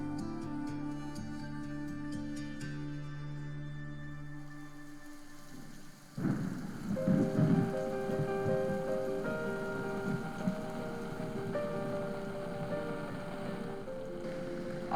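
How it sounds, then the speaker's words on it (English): A thunderstorm over Cancun, Mexico: after a stretch of low rumbling, a loud thunder crack breaks in midway and is followed by steady heavy rain hissing on surfaces, with no voices. "I brought a storm with me"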